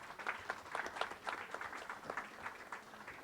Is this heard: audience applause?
yes